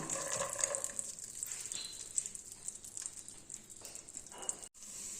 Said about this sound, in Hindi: इसको हम पहले हल्की आंच पे भून लेंगे।